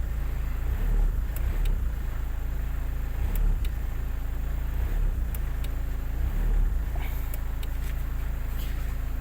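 A Hyundai Accent CRDi diesel engine, with a worn fuel pump just fixed after it cranked but would not start, idles in a low, even rumble, with faint clicks and a few soft thumps over it.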